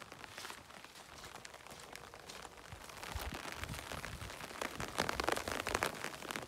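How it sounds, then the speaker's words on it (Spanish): Rain falls outdoors on open countryside fields during a walk, a soft, steady patter with scattered crackling drops that grows a little denser toward the end, faint and with no voices. "Otro día fantástico de lluvia, agradable para caminar por estos campos."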